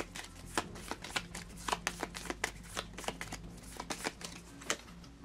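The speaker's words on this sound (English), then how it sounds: "And once again, shuffling the initiative cards." Initiative cards for a board game being shuffled, a rapid run of crisp papery riffs and snaps repeating steadily for several seconds, close and fairly quiet, with no voices.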